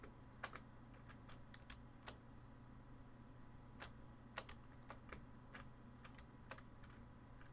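Keys on a computer keyboard clatter in quick irregular taps, setting key configurations for the game Tex Murphy: Overseer, faint and close with a steady hum underneath and no talk.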